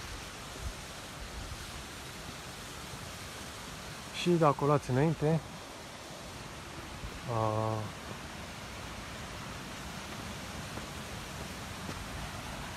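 Rushing water runs steadily through a small monastery hydroelectric plant on a gorge trail near Ialomița Cave, a constant broadband hiss with two short spoken phrases over it.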